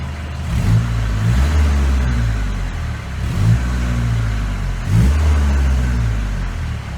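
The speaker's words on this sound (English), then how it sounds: "we can give it some revs" A 1986 Ford Escort diesel wagon engine held at steady high revs, surging noticeably three times in rhythmic pulses, loud and close with no talking.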